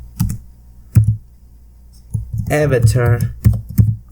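A computer keyboard clicks out a file name in quick clusters of keystrokes, close and crisp, with a spoken voice over part of the typing.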